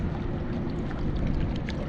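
Strong wind outdoors by the water while fishing, a loud continuous roaring buffet against the microphone with no voices.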